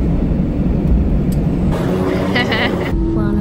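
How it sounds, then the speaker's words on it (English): Steady cabin hum of a parked airliner before take-off on a connecting flight to Turks and Caicos, a constant low engine and ventilation drone with faint rustles and a brief murmur of voices nearby. "We're on our second flight about to take off"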